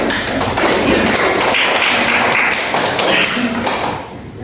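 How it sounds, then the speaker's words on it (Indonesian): A classroom full of people applauds steadily for about four seconds, a dense, even wash of many hands clapping that tapers slightly at the end. "tolong diberikan tepuk tangannya"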